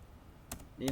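Two quick keystrokes on a computer keyboard click close by in a quiet room, and a voice starts speaking right after.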